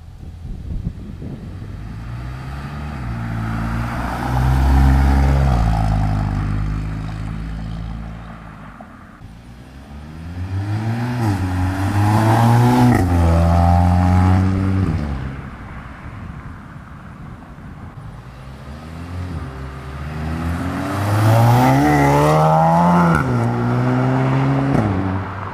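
A VW MK7 GTI fitted with a Remark exhaust accelerates three times in succession, each run rising in pitch through the gears with a deep, throaty exhaust note, loud and close, with no talking.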